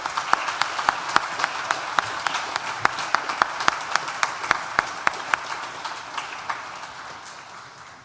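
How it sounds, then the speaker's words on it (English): Audience at a university graduation ceremony claps, a sparse run of distinct hand claps with a soft applause bed that thins and fades toward the end. "A round of applause."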